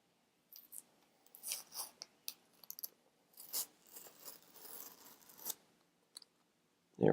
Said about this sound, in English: Well, I just got to take the sticker off.